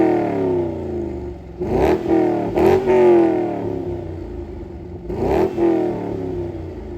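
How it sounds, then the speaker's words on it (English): A 2004 C5 Corvette's LS V8 engine idles with a low, lumpy rumble and is revved sharply three times, each blip rising quickly and then falling back, close by and without talk. "Nothing beats the sound of an LS V8 coming to life."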